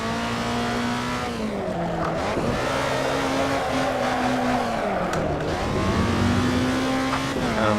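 Race car engine in the video game Assetto Corsa holds a loud, steady drone through the whole stretch, its pitch rising and falling as the car accelerates and shifts, with brief dips where the revs drop.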